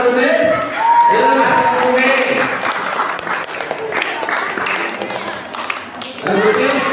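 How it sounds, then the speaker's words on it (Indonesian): An audience at a Ramadan quiz competition claps loudly and steadily with dense, overlapping hand claps, and voices talk and call out over the applause. "aku kasih tepuk tangan dulu"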